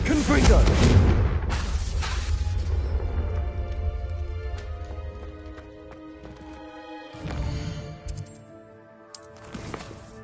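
Fiery Confringo spell blasts boom in a Harry Potter video game, with a few heavy, broad bursts between stretches of quieter action, as a character shouts spell names.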